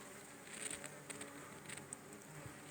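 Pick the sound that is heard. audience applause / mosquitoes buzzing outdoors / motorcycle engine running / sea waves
mosquitoes buzzing outdoors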